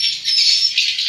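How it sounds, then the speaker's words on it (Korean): Thousands of birds chirping and calling in a dense, continuous high chorus, birdsong played from speakers at a bird nesting spot in Borneo, loud and steady with no pauses. "한 수천 마리 새소리가 들립니다"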